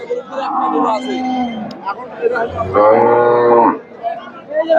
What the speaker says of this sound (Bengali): 4 দাঁতের গাভী